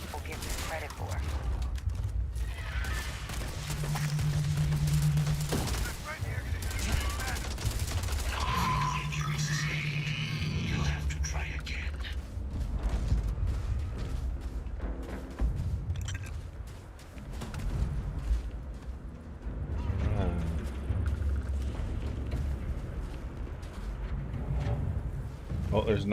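Grenade explosions and gunfire in the game Starfield, a busy mix of booming blasts and shooting running under frequent talk throughout.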